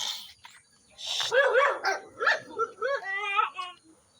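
An excited dog gives high yips, short barks and whimpers at close range, in quick uneven bursts, with faint background voices.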